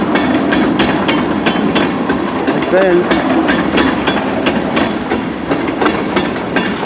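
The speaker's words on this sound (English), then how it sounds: "Maybe another westbound train." A CN westbound freight train rolls past on the tracks near Emmett, Michigan, a steady loud rumble with clattering wheels throughout, and a brief voice speaks over it.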